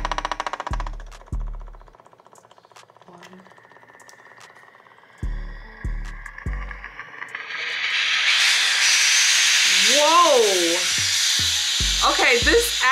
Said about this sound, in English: We're gonna put it on steam.